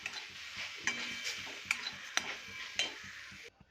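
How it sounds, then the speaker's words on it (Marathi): Raw semolina being stirred into fried bananas in a pan for banana laddoos, giving soft scraping strokes and a few sharp clicks of the spoon against the pan over a faint sizzle, fairly quiet, with no talk. "आता आपण यामध्ये रवा ॲड करूया एक अर्धी वाटी कच्चा रवा आहे भाजला वगैरे नाही आहे आता हे मिक्स करून घेऊया"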